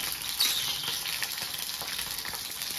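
Green chilies and garlic dropped into hot oil, giving a soft, steady sizzle with light popping and spatter, fairly quiet and close, with no talking.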